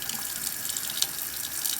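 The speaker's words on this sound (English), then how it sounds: "We're just going to carefully pour out the vinegar" Vinegar poured out of a container into a sink after an egg soaking experiment, making a steady, close splashing flow of liquid into the basin that runs throughout without a break.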